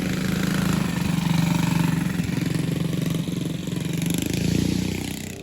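A Coleman 200 U-EX mini bike engine runs steadily nearby after carburetor tuning, a loud, buzzy mechanical drone that swells gently a couple of times, with no talking.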